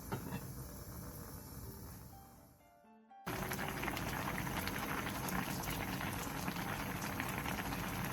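Water boiling hard over high heat in a pot for a home-cooked Korean side dish: a dense, steady bubbling roar, close and continuous, briefly dipping before resuming at full strength.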